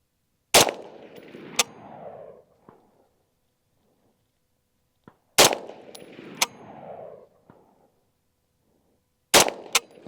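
Original Armalite AR-180 rifle fired at steel targets outdoors: three loud, sharp single shots spaced several seconds apart, each followed by a ringing metallic clang and a short decaying echo, with quiet between.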